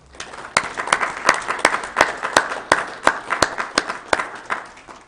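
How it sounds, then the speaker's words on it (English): A county commission meeting room fills with applause for the golf committee, many hands clapping together under a few sharp, louder claps that ring out at a roughly regular pace. "would you join me in giving the three of them especially a round of applause?"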